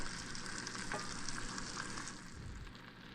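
Boneless, skinless chicken thighs sizzle steadily in a hot pan, a dense, continuous crackle with a few soft scrapes of stirring or pushing near the end, close and moderately quiet, with no voices.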